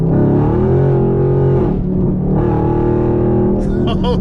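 A Camaro SS V8 with a ported throttle body revs steadily with a loud, close engine drone that rises and falls in pitch, dips briefly, then climbs again.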